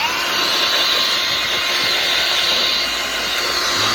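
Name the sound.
Ryobi bench blower inflator blowing air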